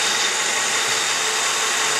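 A car engine idles after routine maintenance and an oil filter check, a steady, even running sound heard close and loud with no talk.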